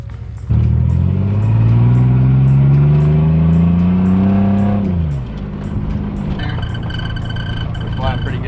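A car with its exhaust unbolted roars loudly as it accelerates through a long rising pull, drops off, then settles into a lower cruising drone, with faint talk near the end.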